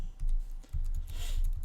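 Someone types a number on a computer keyboard, giving a quick run of soft, close key clicks with a short pause partway through.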